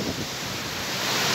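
Big sea waves pounding the shore of Panglao Island, Bohol, during Typhoon Odette, a loud continuous roar of surf and wind noise filling the whole clip with no voices.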